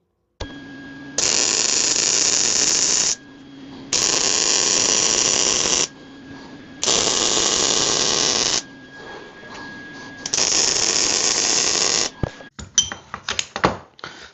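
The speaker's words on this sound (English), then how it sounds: "So I'll get the welder set up and we'll get to burning this in." A welder fuses a bearing cap onto a steel shaft in four loud, sustained buzzing bursts, each lasting about two seconds with short pauses between them, followed by a few scattered clicks and knocks.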